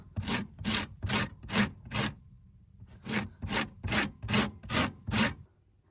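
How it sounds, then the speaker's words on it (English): A small zester scraped across a lemon in close, even strokes, about a dozen rasping passes with a short pause midway, each scrape crisp and near with no talking. "I'm just gonna use my little zester here and I just like zest it right into the lid"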